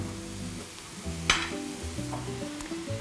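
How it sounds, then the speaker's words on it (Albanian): Onion and chicken fillet frying in a pan give a steady close sizzle, with occasional scraping stirs and a sharp clack against the pan. "ka ardhur aroma e mirë këtu e qepës me pulën që po skuqen"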